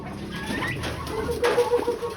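Chickens clucking in short bursts, some close and some farther off, with a busy rustling background and no talk.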